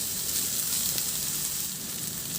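Cubed ingredients sizzle in a hot pan while being stir-fried until lightly browned, a steady close crackling hiss with faint stirring and no speech.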